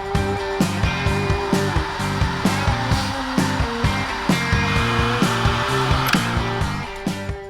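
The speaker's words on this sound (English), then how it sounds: "You hit it with a heat gun and it melts the solder" A heat gun blows steadily on a solder sleeve over a wire splice during a truck door repair, a continuous close airy whoosh with a pulsing, stuttering motor hum through the whole stretch.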